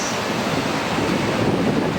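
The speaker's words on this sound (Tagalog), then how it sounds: "Nandito tayo ngayon sa beach." Constant roar of surf with wind buffeting the microphone, a steady wash of noise with no voices.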